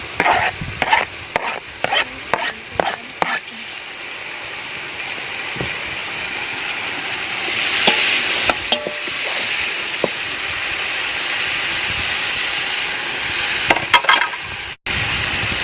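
Onions and tomato frying for biryani hiss and sizzle steadily in a pan, with repeated scraping stirs and clacks of a spoon, close and continuous without talk.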